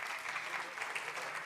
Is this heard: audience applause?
yes